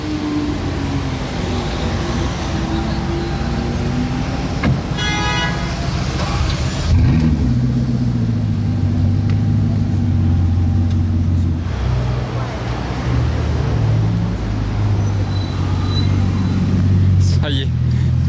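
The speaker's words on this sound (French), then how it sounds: "Ça y est, la suite du convoi arrive." A convoy of supercars, among them Bugatti, Koenigsegg and Pagani, pulls up at a restaurant in Monaco. Engines rumble and rev nearby, with a brief horn-like toot and passing traffic, while people talk throughout.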